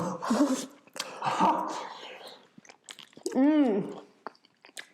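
Someone bites into hot cornbread stuffing, with a couple of close, soft chewing and crunching bursts between spoken exclamations and a short whimpering sound near the end.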